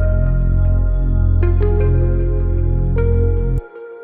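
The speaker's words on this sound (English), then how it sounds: "It's just this quick little kind of atmospheric dark pop beat that I just made really quickly so we could write something over" A short atmospheric dark pop beat plays alone, with heavy steady bass pulses under sustained synth tones and a few brighter accents, then cuts off abruptly near the end, leaving a faint lingering tone.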